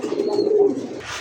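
Pigeons cooing nearby in a low, throaty burble that rises and falls for about a second, ending with a faint rustle.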